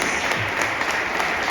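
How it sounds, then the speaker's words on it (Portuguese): A church congregation applauds during a worship service, a loud, dense burst of clapping from many hands that runs steadily throughout at close range. "Vamos aplaudir a videira verdadeira."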